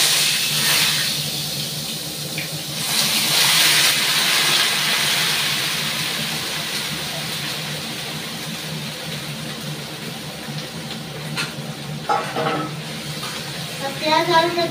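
Onions and potatoes hitting hot oil in a wok set off a loud burst of sizzling that settles into a steady hiss, with a few clatters near the end.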